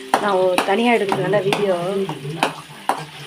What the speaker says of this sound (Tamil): போட்டு கிண்டிகிட்டே இருக்கிறது